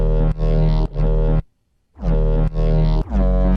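Unprocessed Serum synth bass for glitch-hop plays thick, buzzing sustained notes in short repeated phrases, broken by a brief silent gap, loud and alone.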